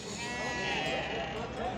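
Sheep bleat in a drawn-out, wavering cry over a busy background murmur at a livestock market in Çorum, with people talking nearby.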